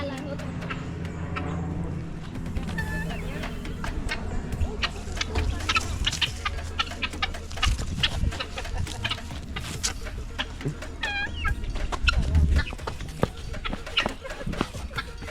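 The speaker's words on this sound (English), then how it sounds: "those are like turkeys or guinea fowls" Turkeys or guinea fowl at a Costa Rica zoo call with repeated squawks and clucks, close and frequent, mixed with people talking nearby.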